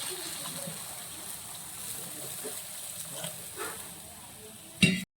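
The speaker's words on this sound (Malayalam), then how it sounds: "ഈ മസാലയും സവോളയും ഇതെല്ലാം കൂടെ നന്നായിട്ട് കിടന്ന് മൂക്കട്ടെ" Masala and onions sautéing in oil for an egg curry, a soft steady sizzle with light stirring throughout, ending in a brief louder scrape near the end.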